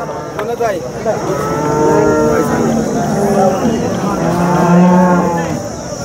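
Several cows moo in overlapping, drawn-out calls at the busy Sangola livestock market in Maharashtra, some close and loud, others farther off, with crowd murmur beneath.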